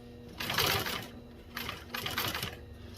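A commercial walking-presser-foot sewing machine for automotive upholstery runs in short bursts, two or three quick, close, rapid stitching runs separated by brief pauses, with no talking.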